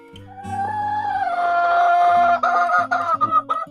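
Free-range village hens and a rooster cluck close by in a steady, overlapping run, with a drawn-out crow rising in the middle before short clucks take over again.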